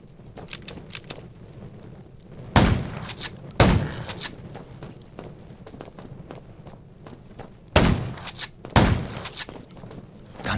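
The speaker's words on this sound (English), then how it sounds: "Gunshots will attract more." Gunfire in the zombie survival game Undawn arrives as four loud, sharp shots in two spaced pairs, standing out over lighter repeated footstep-like taps and a faint background tone.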